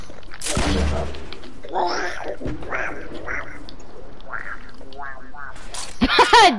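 A voice mimics Donald Duck's quacking in a raspy, evil-sounding cartoon style, a string of nasal squawks over a noisy background.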